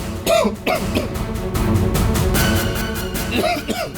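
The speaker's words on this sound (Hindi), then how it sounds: "साहब, बुखार है और थोड़ी खांसी भी" A few short, harsh coughs from a person with a fever, near the start and again near the end, with a steady noisy background in between.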